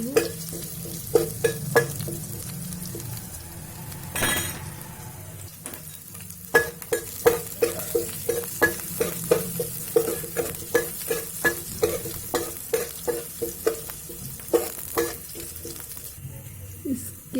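Ginger browning in hot oil in a pan for sabudana khichdi, with quick rhythmic spatula scrapes and taps over a continuous sizzle, close and fairly loud.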